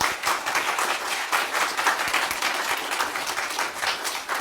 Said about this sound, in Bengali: আপনারা সকলে ওদের জন্য একটু জোরে করতালি দেন